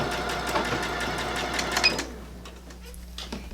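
A sewing machine backstitching through towel fabric gives a steady, close mechanical whir of rapid needle strokes for about two seconds, then stops, leaving quiet room tone with faint clicks.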